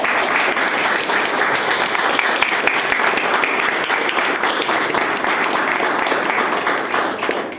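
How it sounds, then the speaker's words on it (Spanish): Loud, dense applause from an audience at a game showcase event, continuous clapping from many hands throughout with a slight taper at the end. "Un aplauso, por favor."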